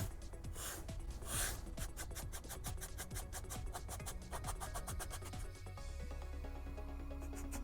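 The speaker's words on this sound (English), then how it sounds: "as I'm going down with the sanding stick, I'm also pulling it forward this way" Steady rasping strokes of a sanding stick scraping across foam armor, pulled forward as it goes down, repeated in a quick, even rhythm, close up with no talking.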